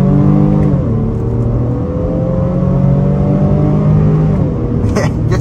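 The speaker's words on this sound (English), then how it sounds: "Downshift to second, throwing it in way quicker than we should." A 2023 Honda Pilot Touring SUV engine revs up hard after a quick downshift to second, its rising drone loud and steady from start to end, with tire and road noise underneath.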